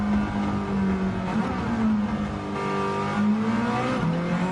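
A turbocharged Toyota MR2 in Gran Turismo 7 revs hard and close, its engine note rising and falling steadily through the throttle with a continuous, loud drone and no speech.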